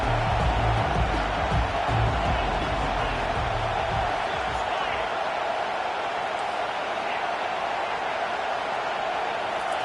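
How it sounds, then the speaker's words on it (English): A loud, broad wash of crowd noise from a packed football stadium on third down, a steady roar that swells and holds throughout, with rumbling low tones early on. "Decibels rising as the crowd gets behind this defense on 3rd down."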